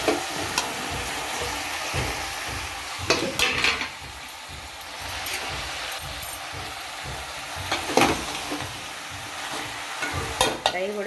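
Okra pieces fry in a pan with tomato and onion for a vegetable curry, giving a loud continuous sizzle with repeated rhythmic stirring scrapes and occasional sharper spatters, close and without talk.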